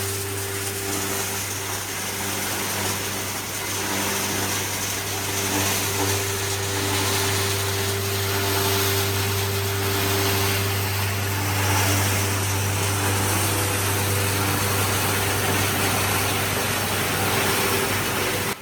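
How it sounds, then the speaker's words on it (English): A copper wire recycling line's shredding machine crushes copper wire cables into small pieces, giving a loud, continuous industrial drone with a strong steady hum and constant grinding noise, unbroken throughout. "The process starts with a shredding machine, where copper wires are crushed into small and uniform pieces."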